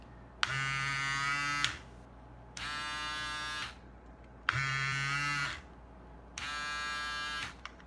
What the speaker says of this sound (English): I think it's just louder um, because you can hear the difference.